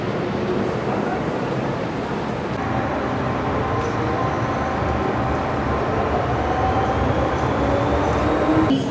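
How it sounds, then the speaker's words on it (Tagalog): A Hong Kong MTR train on the Tsuen Wan Line pulls into an underground station toward Central, a loud steady rumble with rising whine and rail squeal building over several seconds. "Tapos parang less than 2 minutes, nandito na ulit yung next na train."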